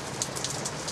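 Light drizzling rain outdoors in Southwest Florida, a steady dense patter on surfaces with a few slightly louder drops, no talking.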